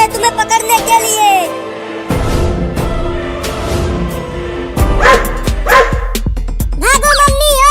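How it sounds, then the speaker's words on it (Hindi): A cartoon dog barks and yips while chasing a cat, the sharp barks rising in bursts over busy music and effects, with a narrator talking alongside. "एक कुत्ता जा रहा है तुम्हें पकड़ने के लिए।"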